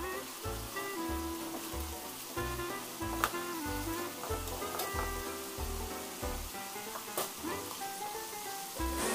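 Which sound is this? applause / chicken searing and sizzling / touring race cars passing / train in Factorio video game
chicken searing and sizzling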